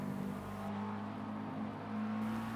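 A McLaren GT3 race car engine in Assetto Corsa Competizione droning steadily at high revs from inside the cockpit, a constant tonal hum with slight shifts in pitch.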